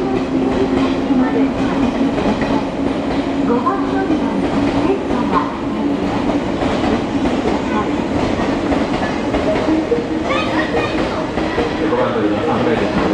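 A JR 223-series Special Rapid train rolls into Kyoto Station with a steady rumble and rhythmic clatter of wheels, while a crowd murmurs and an announcement plays over the noise.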